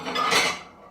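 Ceramic plates clatter and clink together as one is lifted from a stack in a home kitchen, a short, bright, fairly loud rattle that fades within a second.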